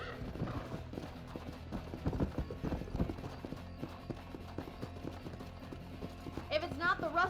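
Rhythmic clip-clop of horse hooves at a steady gait while riding in the video game Red Dead Redemption, close and continuous, with a brief whinny-like sound near the end.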